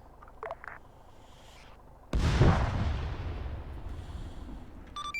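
An airstrike explosion in a video game lands as a sudden loud boom that breaks in after quiet, low background noise and chatter. It then rolls into a long rumbling decay that lasts several seconds.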